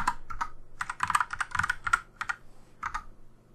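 Rapid, uneven keystrokes on a computer keyboard as a bank sort code is entered, close and clear in several quick bursts separated by short pauses, with no talking.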